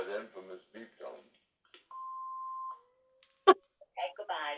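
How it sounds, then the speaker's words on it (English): A sustained answering machine beep tone sounds alone for under a second, followed by a sharp click, with talk before and after. "here comes that infamous beep tone"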